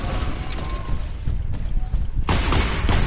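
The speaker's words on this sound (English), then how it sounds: "Stop shooting!" Video game gunfire, a dense continuous barrage of loud shots that stays packed and overlapping from start to finish, with a brief dip before it swells again, with voices talking under the noise.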